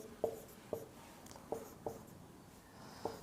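Chalk or marker strokes on a classroom board during a Hindi lesson, six short separate taps and scratches spaced about half a second apart over a quiet room background.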